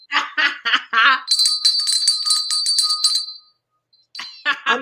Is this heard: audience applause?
no